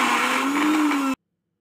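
A blender grinds candlenut and garlic with a little water into a spice paste for oseng mercon, a steady loud whirring motor that runs alone for about a second and then cuts off abruptly into silence.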